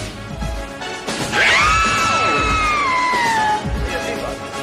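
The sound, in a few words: women screaming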